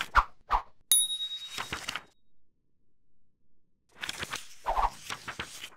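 A single bright notification bell dings sharply, set among scattered soft clicks and taps, with a stretch of near silence before more light tapping returns.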